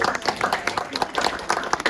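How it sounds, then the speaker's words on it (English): An audience at a Wisconsin Public Health AmeriCorps grant announcement claps in uneven, fairly close bursts from a modest group. Scattered voices mix with the hands. "Let's give them a round of applause"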